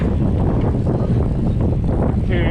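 Strong wind buffets the microphone outdoors while cycling, a loud, constant roar with no other sounds coming through.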